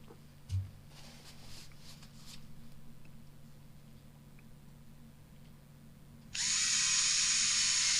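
Screws being driven back into a Husqvarna 576XP chainsaw after Loctite is applied, a close, loud, steady power-driver whir starting late and running continuously after faint workshop clatter.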